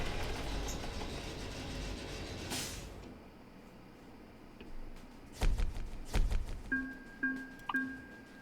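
Coupling release on a truck trailer in American Truck Simulator: a few soft mechanical clunks and hisses after a quiet stretch, followed by three short repeated chime tones, with no talking.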